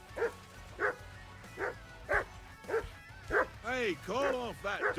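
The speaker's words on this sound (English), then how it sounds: "I assume you can hear that damn dog of yours barking." A dog barks in the medieval game Kingdom Come: Deliverance II, with a steady series of loud, evenly spaced barks that turn into whiny yips toward the end, and voices talk underneath.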